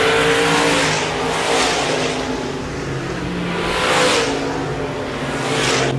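Stock cars thunder around a speedway oval on the last lap of a heat race at Park Jefferson, loud continuous engine roar swelling and fading in repeated waves as the pack passes through the final turns.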